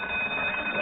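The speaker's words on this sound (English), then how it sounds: "Turn off that alarm" A steady electronic alarm clock rings continuously for under a second, a bright sustained tone.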